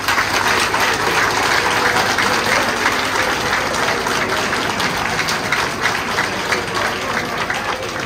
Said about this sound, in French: je vous demande d'applaudir mon père qui est dans la salle